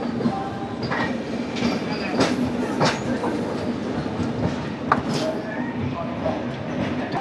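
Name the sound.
Shalimar–Vasco da Gama Amaravati Express train running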